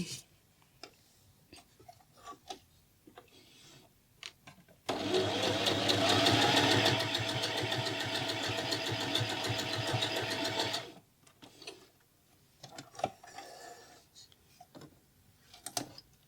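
A Family 25 PRO domestic sewing machine stitches knit fabric in one steady, loud whirring run of about six seconds, with quieter handling clicks and rustles before and after.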